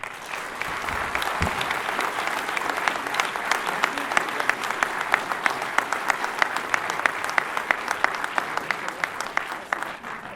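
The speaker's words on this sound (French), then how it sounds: "que les applaudissements qui seront donnés par la salle soient pour toi et pour le ROC" A hall audience at a rugby club's season launch evening claps for about ten seconds, with dense applause settling into a steady rhythmic beat toward the end.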